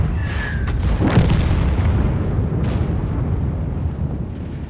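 Heavy booming tank cannon shots in the video game World of Tanks, one sharp blast near the start and another around the middle, rolling over a constant low rumble of engine and battle noise.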